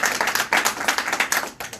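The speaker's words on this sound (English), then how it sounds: "All right, you can applaud for that." An audience at a panel event claps for a couple of seconds, a quick burst of hand claps close by and fairly loud with no one speaking.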